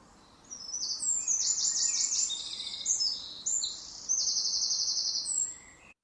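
Mistle thrush song in Monkstown: a loud run of complex, rapid high-pitched phrases sung continuously, carrying clearly over faint distant birdsong.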